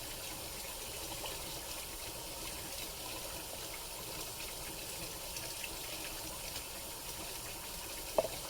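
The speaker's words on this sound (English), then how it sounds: "I'm going to pour this back in here because I want to make sure there's no seeds in there" Pokeberry and apple cider vinegar drink being poured back into a container after straining out seeds, a steady continuous watery gush with no talking.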